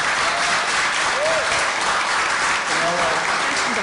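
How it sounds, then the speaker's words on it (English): Loud, dense audience applause at a U.S. House of Representatives congressional district debate, steady and continuous throughout. "if I could ask again to hold the applause until the end of the debate"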